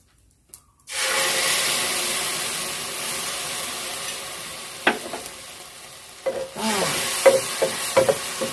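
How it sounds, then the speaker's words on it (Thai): After a brief silence, Thai shrimp paste chili dip hits a hot pan and bursts into a loud, close sizzle that holds steady, with sharp scraping stirs clattering in toward the end. "ผัดน้ำพริกกะปิให้หอมก่อนเลย"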